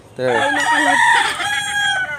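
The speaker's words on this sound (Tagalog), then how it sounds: "nakikita nyo guys, ang daming manok dito." A rooster crows loudly and close on a farm among many chickens, one long drawn-out call with some clucking around it.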